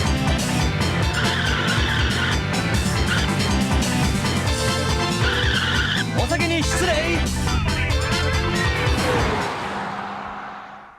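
Race cars in the 1993 Namco arcade racing game Ridge Racer, engines roaring and tires squealing through skids over loud game music, fading out at the end.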